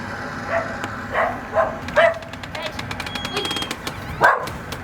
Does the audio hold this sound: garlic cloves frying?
no